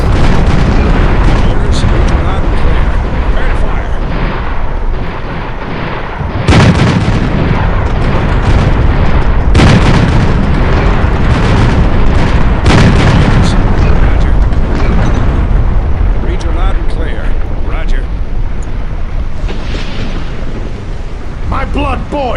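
Artillery fire from the strategy game Empire Earth 2, in the 1898 San Juan Hill battle, booms loudly in repeated heavy blasts over a constant roar of combat, with occasional unit voices.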